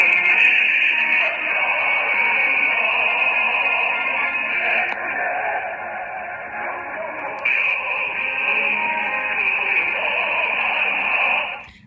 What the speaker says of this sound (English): Their modulation is just terrible. They've got to be using really old transmission equipment, and it just sounds awful.